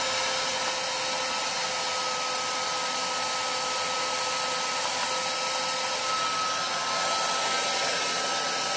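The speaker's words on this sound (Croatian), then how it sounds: "prvo ćemo malo fenom ugrijati da ljeplo popusti" A hair dryer blows steadily on a Samsung Galaxy Grand Prime SM-G530, warming the adhesive that holds the display to the housing. The close, even whoosh runs the whole time, swelling slightly near the end.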